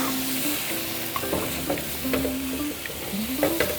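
Meatballs with onions and bay leaves sizzle in a pan and are stirred gently, giving a continuous close fry with scraping stirs and small pops, no voices.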